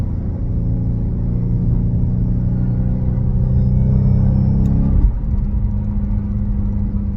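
A Dodge Hellcat cruising on the highway with an aftermarket intake, its loud exhaust drone and road rumble steady throughout, a thin high supercharger whine riding faintly on top, with a brief bump around the fifth second.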